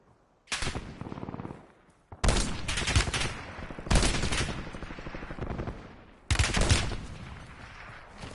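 Heavy incoming automatic gunfire in a video game arrives in four long, loud sustained bursts of rapid shots separated by short gaps, close and harsh, with no talking.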